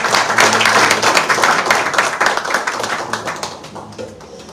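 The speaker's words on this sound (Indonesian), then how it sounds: "Tepuk tangan semuanya." A church congregation at a Sunday service claps hands together in a dense, lively burst of applause that gradually thins and fades out.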